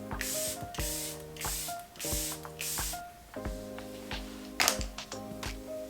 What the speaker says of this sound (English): I'm just gonna use some of my favorite Charlotte Tilbury setting spray.